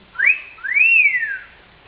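A person whistles two rising-and-falling notes, the second longer and sliding down, clear and close with nothing else around, during an Ondes Martenot presentation.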